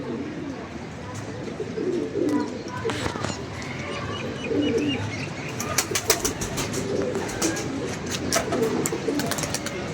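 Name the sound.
pigeons cooing and flapping wings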